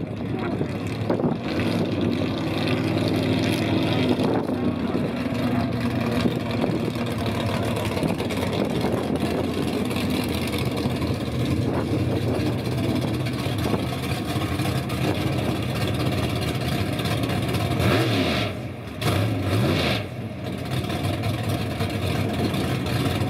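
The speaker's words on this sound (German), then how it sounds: "Michael, sein V8, der bringt hier 1300 PS an die Hinterachse." A BMW 850 Coupé race car with a 1300-horsepower V8 sends a loud, sustained engine roar for a long stretch, rising and falling slightly with a brief dip near the end, while a voice talks over it.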